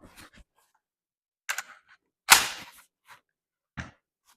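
Spring assembly pulled from a Tudors HTT 305 gun during field stripping: a few sharp metallic clicks and rattles, one louder clack in the middle, spaced apart with quiet gaps, close and alone.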